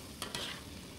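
Onions frying in a pan while being stirred: two quick scrapes of the spoon, then a steady, faint sizzle that lasts the rest of the short moment.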